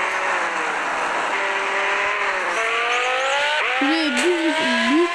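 A Bugatti's engine roars steadily in a car video game, its pitch rising and falling as it revs and shifts, loud and continuous, with a speaker's voice joining near the end.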